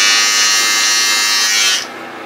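An electric hair trimmer buzzes steadily and loudly close to the microphone for under two seconds, then switches off, leaving a faint room hiss.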